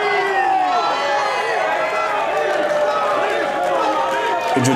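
Applause from a Berlin crowd at a professional wrestling match, a continuous dense clatter of clapping with cheering and chatter mixed in, while a commentator talks over it throughout.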